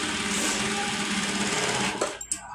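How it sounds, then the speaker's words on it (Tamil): A sewing machine runs a steady, continuous stitch along the side edge of a piece of cloth, close and fairly loud, then stops near the end with a couple of small clicks. "இப்போ சைடில் கோடு போட்டு அதை தைக்கணும்."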